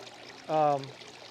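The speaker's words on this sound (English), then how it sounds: "this bell siphon will drain that water down" Aquaponics bell siphon beginning to drain: a short, faint gurgling pour of water, about half a second long, against a quiet background.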